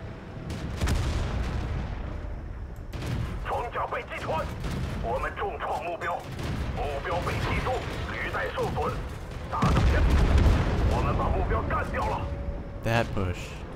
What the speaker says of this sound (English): Shots back there.